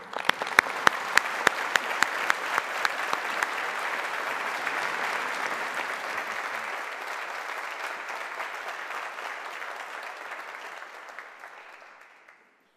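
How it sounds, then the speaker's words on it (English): Graduation ceremony audience applause for the graduands at Strathclyde Business School, a large hall of sustained clapping with a few sharp individual claps standing out early, gradually thinning and fading to silence at the end. "let's start by getting these graduands warmed up by giving a big round of applause"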